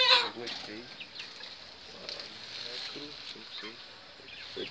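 A carijó (barred) rooster clucks and makes short calls among other chickens, with a person talking over the birds at moderate distance.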